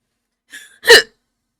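A woman's single sharp hiccup, close and loud, preceded by a brief breathy catch, then silence.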